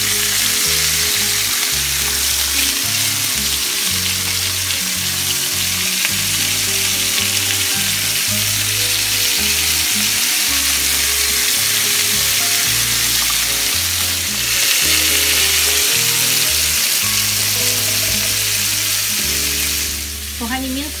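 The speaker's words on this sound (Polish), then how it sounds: "mięsko się podsmaża" Pork ribs being lightly browned in a pan give off a loud, continuous sizzle and crackle close by for the whole stretch, with no one talking.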